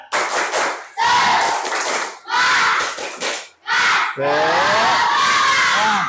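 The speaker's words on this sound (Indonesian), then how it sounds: "tepuk semangat" Indonesian schoolchildren in a classroom perform a rhythmic spirit clap cheer, bursts of unison claps and loud group shouts in several phrases separated by short gaps, ending in a long sustained chant.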